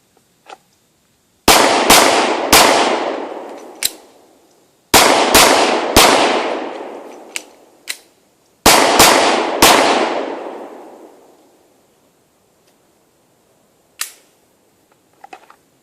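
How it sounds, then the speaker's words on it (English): Nine handgun shots fired at a range, loud sharp cracks in three quick bursts of three with ringing tails and quiet gaps between, no talking. "So there you go, that's 9 shots."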